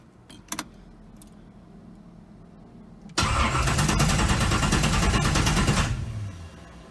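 A Datsun 280Z with new plugs, a charged battery and fuel cranks without catching: a few key clicks and jingles, then a loud, rapid rhythmic cranking churn for about three seconds that stops abruptly.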